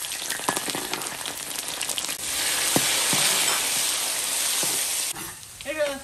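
Ginger and garlic sizzle as they drop into hot oil in a wok while stir-fried river snails are being prepared, a loud, steady frying hiss with stirring scrapes, rising after a quieter start and tapering near the end.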